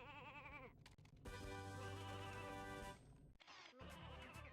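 Sheep bleats from the video game Ratchet & Clank: Going Commando, a wavering bleat followed by a long, loud sustained baa and another short bleat, with no talking.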